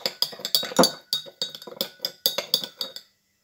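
A spoon stirring water in a glass, giving a quick run of bright, close-up clinks against the sides for about three seconds before falling silent.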